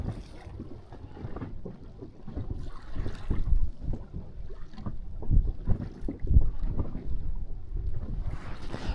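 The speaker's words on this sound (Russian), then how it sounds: "Ветер, конечно, пронизывающий." Strong wind buffets the microphone outdoors on open water during a fishing trip, a steady low rumbling roar with gusts swelling and fading throughout, no voices present.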